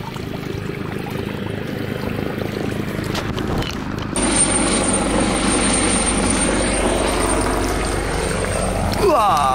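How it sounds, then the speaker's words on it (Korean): A helicopter passes overhead above a rice paddy field, its rotor and engine roar building to a loud, steady wash that stays strong to the end, with faint wind noise earlier. "헬기가 지나갑니다"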